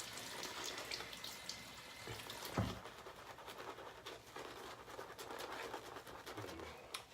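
Water running from a tap onto a shaving brush, a soft steady trickle and patter close by, with one brief louder splash in the middle.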